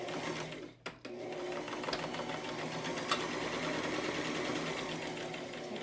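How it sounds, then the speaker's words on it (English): A sewing machine runs a straight stitch about a quarter inch from the edge, a steady, rapid mechanical chatter heard up close after a brief pause near the start. "So I'm just going to do a straight stitch about 1/4 of the way in."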